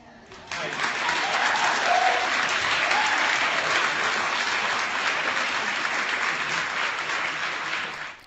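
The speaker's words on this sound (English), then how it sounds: "And the stupid crowd claps." Crowd applause at a Women's March event, a sustained dense roar of clapping that starts abruptly, holds steady and loud for several seconds, then tapers at the end.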